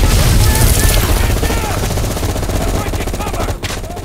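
Automatic M16 rifle fire during a Viet Cong attack in Call of Duty, loud rapid bursts crackling near and continuous, with booms and battle noise layered under it.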